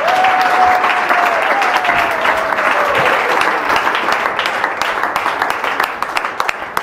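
A church congregation claps and applauds loudly and steadily in praise of the Lord. A sustained tone runs beneath the first few seconds, and the clapping thins slightly toward the end.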